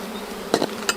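Honeybees hum around an open beehive during queen replacement, a close, dense buzzing drone with a few brief louder passes as bees fly near.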